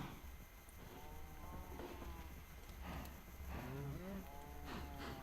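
Several drawn-out cattle moos from a cow in Minecraft, synthetic game-like in tone, rising and falling over a steady low hum, with some faint clopping in the background.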